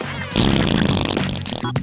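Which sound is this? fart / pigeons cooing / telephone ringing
fart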